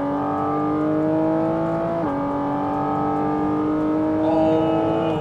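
Porsche 718 Cayman GT4 RS with Weissach package pulling hard in third gear, its flat-six engine note rising steadily and loudly from inside the cabin, with a brief dip near the middle before climbing again.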